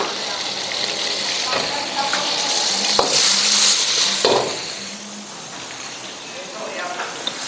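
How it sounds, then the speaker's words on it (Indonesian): Garlic, onion and egg stir-fry in hot oil for nasi goreng, a steady loud sizzle with occasional scrapes of the spatula and brief speech in the background. "Sedikit bawang Holland kita tumis"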